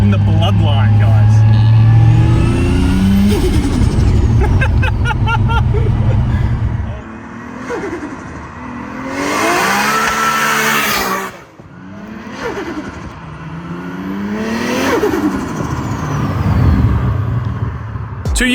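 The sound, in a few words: Nissan R32 Skyline with built RB25 engine revving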